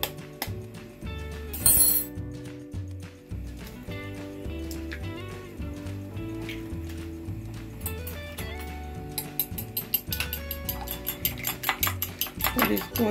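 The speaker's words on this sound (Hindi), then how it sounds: "अब मैं एक अंडा तोड़ लूंगी" An egg is cracked and beaten with a utensil clinking against a bowl while making spring paratha, steady stirring clatter building into quicker rhythmic whisking toward the end, under continuous background music, no talking.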